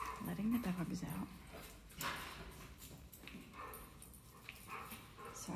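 Dogs let out of the house in the morning whimper and yip close by at first, then scuffle and patter about more quietly, with a person talking over them.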